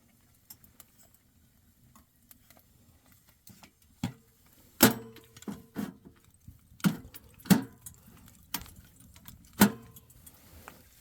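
Metal damper on a hot tent wood stove rattling in freezing winter camping, a series of sharp metallic clinks and jangles, sparse at first then in irregular bursts, close and clear against a quiet background.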